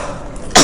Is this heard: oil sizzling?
no